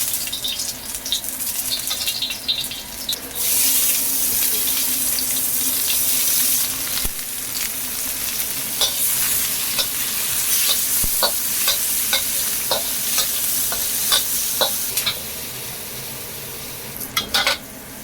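Chicken feet sauté in a hot pan being cooked Chinese style, with a steady loud sizzle throughout and repeated scraping, clicking strokes of a utensil stirring against the pan.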